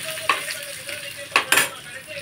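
Dried red chillies sizzling in hot oil for a curry and stirred with a utensil, giving a soft frying hiss with a few sharp scrapes and clinks against the pan, heard close.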